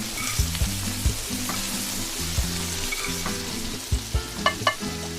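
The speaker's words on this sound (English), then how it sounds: "And stir until the mirepoix becomes softened." Diced onions, celery and carrots sizzle steadily in a hot pan while a utensil stirs them, scraping and tapping against the metal in a run of close clicks toward the end.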